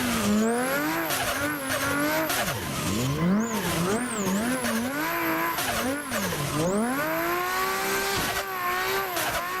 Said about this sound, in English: So now we're doing some nighttime drifting.